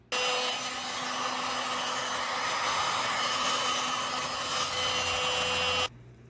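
A heat gun blows over fresh epoxy resin with a steady, loud hairdryer-like whoosh that runs for about six seconds and then cuts off abruptly, leaving a faint hum.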